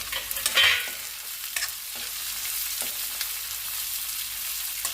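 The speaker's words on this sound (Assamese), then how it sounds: "মই এইখিনি কেঁচা গোন্ধ যোৱালৈকে ভাজি থাকিম" Onion, garlic, ginger and tomato fry in a pan, a steady close sizzle with a sharp scrape of stirring near the start and light clicks of a spatula throughout.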